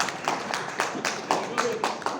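Rhythmic hand clapping at a hotel management training session, roughly one clap every quarter second, moderately loud with a voice murmuring underneath.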